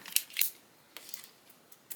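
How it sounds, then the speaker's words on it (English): Two quick, crisp snips of small scissors cutting paper, followed by a few lighter clicks and rustles; close and otherwise quiet. "Some smaller scissors here."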